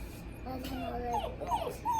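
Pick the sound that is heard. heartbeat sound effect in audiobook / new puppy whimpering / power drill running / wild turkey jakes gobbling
new puppy whimpering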